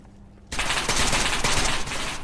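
Gunfire from the video game SCP Pandemic bursts in suddenly as a loud, dense volley of rapid shots that keeps going nearly two seconds after a short quiet start.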